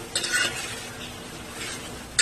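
Bitter gourd pieces dry-roast in a pan without oil, with soft scraping stir strokes and a faint sizzle, ending in a brief metallic clink.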